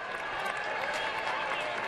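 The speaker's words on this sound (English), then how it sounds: "A little buzz going through the crowd" Steady murmuring buzz of a big baseball stadium crowd during a Mariners game, a dense wash of many distant voices with scattered cheers, holding even and full throughout.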